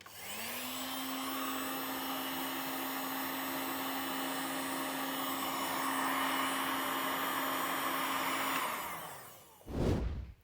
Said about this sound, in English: So heat gun time.